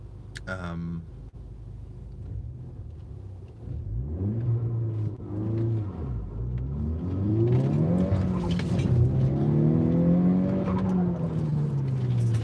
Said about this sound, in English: I know you guys love my turbo car.